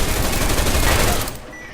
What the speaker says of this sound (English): Here we've used an EMP frag grenade to disable the turret and armor-piercing bullets to destroy it.